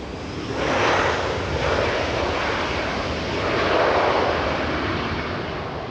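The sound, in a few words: SkyWest airliner flying in to land at LAX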